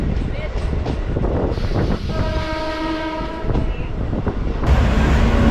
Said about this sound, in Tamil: இப்போ வில்லிவாக்கத்துக்கு அடுத்ததாக ட்ரெயின் நிற்கிறதாங்க கொரட்டூர் ரயில்வே ஸ்டேஷன்